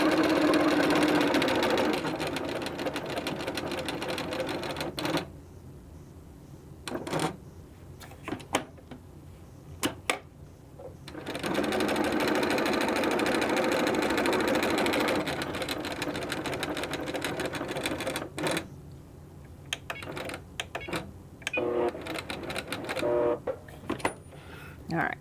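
A small sewing machine stitches table runner blocks in long, steady runs broken by pauses and clicks, close and loud, while a person talks during the breaks.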